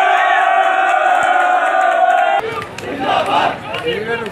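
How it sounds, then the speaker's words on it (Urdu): Party workers chant slogans and cheer while celebrating a victory announcement, drums beating in the crowd; a loud, dense mass of voices rises and surges, continuous and close throughout. "غازی گروپ کے کارکن نعرے بازی کرتے ہوئے جشن بھی مناتے رہے"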